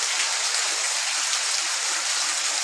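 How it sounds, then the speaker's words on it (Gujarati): Heavy rain pours down during a storm in Gujarat, a dense, steady hiss of water that stays loud and even throughout, with no voices. "લાઈવ વરસાદ જોઈ ગયો"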